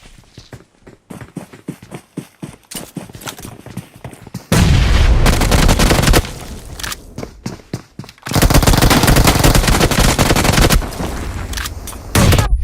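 PUBG squad fight in Pochinki, played on an iPhone: rapid gunshot taps give way to long, loud sustained bursts of automatic fire and booming blasts, including a grenade, dense and continuous near the end.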